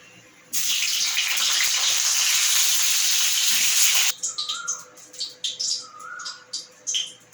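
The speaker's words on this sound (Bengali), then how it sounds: "এরপর আমি কড়াইতে তেল দিয়ে পটলগুলো ভাজতে দেবো।" Pointed gourds (potol) hit hot oil in a wok and give a sudden, loud, steady sizzle lasting several seconds, then the sizzle cuts off and bird chirps are heard in the background.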